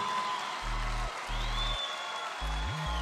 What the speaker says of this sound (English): You know, that always gets like the biggest applause